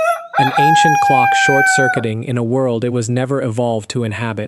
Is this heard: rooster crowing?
yes